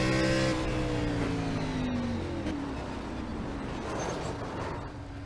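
Race car engine in iRacing at Martinsville Speedway, loud and close, its tone falling steadily as the car brakes into the turn, with a dense roar throughout.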